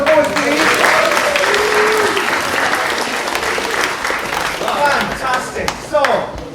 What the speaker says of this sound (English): Round of applause for the boys, please.